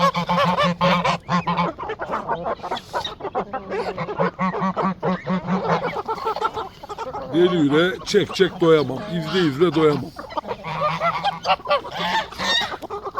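Çorum geese honk repeatedly in loud nasal bursts at close range, overlapping with a man singing in Turkish through much of the stretch.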